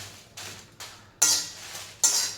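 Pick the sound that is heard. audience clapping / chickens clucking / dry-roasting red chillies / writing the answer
dry-roasting red chillies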